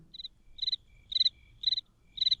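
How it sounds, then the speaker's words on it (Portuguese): A cricket chirps in five quick, evenly spaced pulsing bursts, high-pitched and clear against a quiet background with no talking. "Tá escutando? O grilo?"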